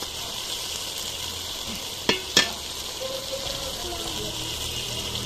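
Spice masala frying and being stirred in a pan for a duck curry, a steady soft sizzle throughout with two sharp utensil knocks near the middle.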